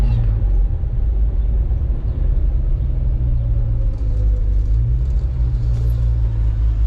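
A 1966 Ford Mustang with Sniper EFI idling after the clutch is pressed, a loud, steady low engine rumble that holds throughout without dying.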